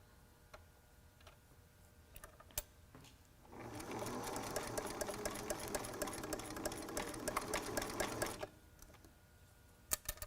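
A sewing machine stitches elastic onto a face mask cut from a T-shirt, one continuous close run of rapid ticking stitches lasting about five seconds, framed by quiet handling clicks.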